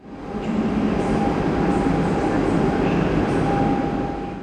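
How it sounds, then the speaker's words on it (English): A PKP InterCity train hauled by an EP07 electric locomotive pulls in with a steady, loud rail rumble, a thin electric whine and faint wheel squeal rising and falling over the few seconds. "Pulling in fresh from the depot, we'll be hauled by this EP07 electric locomotive today."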